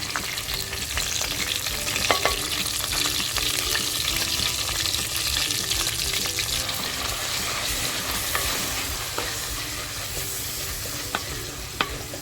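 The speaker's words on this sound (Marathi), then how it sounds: "हा जो हिरवा मसाला करून घेतला आहे तो तेलात टाकून छान फ्राय करून घ्यायचा आहे" Green masala paste fries in hot oil inside a clay pot on a low flame for a stuffed crab curry, giving a steady, dense sizzle with stirring scrapes throughout and no talking.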